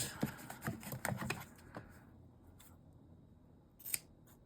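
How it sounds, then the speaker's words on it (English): Scissors snip through fabric in a quick series of crisp cuts, then a pause and a final sharp snip, close and quiet. "I've got my scissors out."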